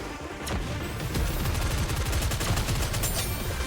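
Rapid gunfire from the video game Nikke, dense fusillades of automatic shots crackling continuously at close range with a few heavier booming hits.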